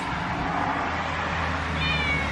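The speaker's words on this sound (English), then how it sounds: "All of my cats are below me crying." Several house cats meow and cry steadily from below, close and fairly loud, with no talking over them.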